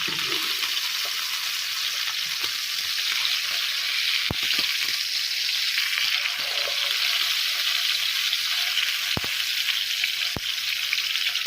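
Scotch fillet steak fries in oil in a pan, giving a loud, constant close-up sizzle with a few brief clicks and knocks, and no voices.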